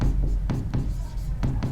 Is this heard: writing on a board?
yes